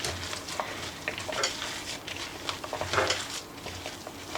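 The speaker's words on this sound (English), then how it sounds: "I'm going to mix this with my hands" Hands squish and knead a soft meatball mixture for a stew in a bowl, a quiet, steady, wet churning with faint clicks and no talking.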